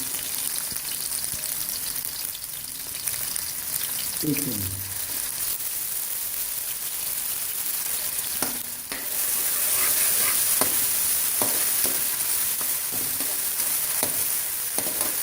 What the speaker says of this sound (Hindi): मैंने आयल डाल लिया है आधा कप। अब इसमें प्याज डालने लगी, थोड़ा सा प्याज डालना है, और साथ ही लहसुन अदरक का पेस्ट